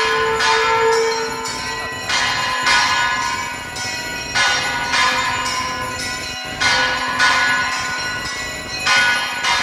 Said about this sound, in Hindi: शंख करताल